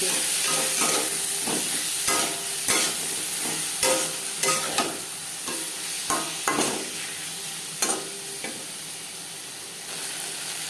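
Ginger and green chilli paste fries in oil with katla fish curry and brinjal, a continuous close sizzle with regular spatula scrapes and stirs, no voices.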